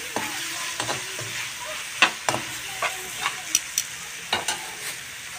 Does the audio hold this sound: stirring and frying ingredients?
yes